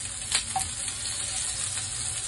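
Fish cakes containing some pork pan-fry in hot oil, giving a steady, even sizzle with a couple of small pops and no talking.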